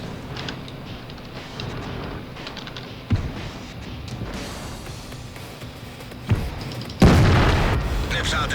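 A tank blows up in World of Tanks, a booming explosion sitting over constant loud engine rumble and battle noise, with a sharp heavy burst near the end standing out above the background.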